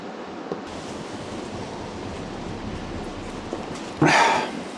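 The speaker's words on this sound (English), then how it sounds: "A wind's got up as well." Steady outdoor wind blowing along a coastal walk, a continuous broadband rush with a stronger gust near the end.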